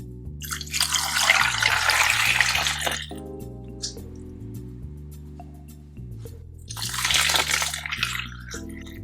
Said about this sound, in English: Wash oranges and lemons in warm water with a little baking soda.